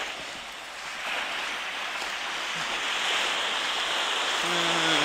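Sea waves wash onto the open shore of Ōmura beach in Toyama, on a stretch with no breakwater blocks. The surf makes a steady, broad rush that swells gradually louder, with no one speaking.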